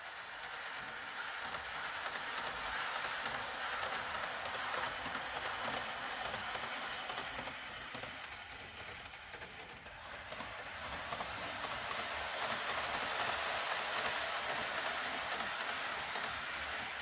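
A model railway train runs along layout track with a faint, continuous rolling clatter that dips briefly in the middle and then picks up again. No voices are heard.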